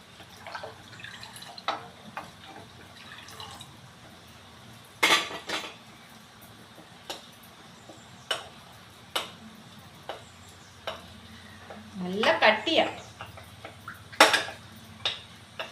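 A spoon stirs milk custard mixture in a pan, scattered sharp metallic clinks and taps against the pan at irregular intervals, with a denser cluster of scraping near the end.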